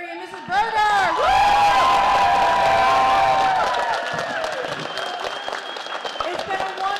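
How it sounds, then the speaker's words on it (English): A crowd at a school winter concert for grades 3 to 5 bursts into loud applause with cheers and whoops, clapping swelling and then gradually easing, while a voice talks over it at the start. "How about a round of applause for Mr. McGarry and Mrs. Berger?"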